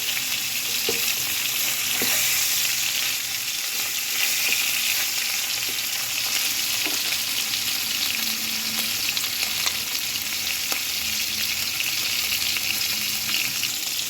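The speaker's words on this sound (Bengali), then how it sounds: "ভেটকি মাছটা ভাজা হচ্ছে, হালকা ভাজবো ভেটকি মাছটাকে।" Vetki fish fries gently in a pan, giving a steady close sizzle with scattered soft pops and clicks throughout and no talking.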